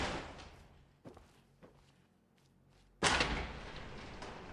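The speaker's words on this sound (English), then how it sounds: "it is a big, heavy-duty door." A big, heavy-duty door in the Fallout 76 video game, with soft thuds while it moves and then a loud, heavy clunk as it shuts, its broad rumble fading slowly.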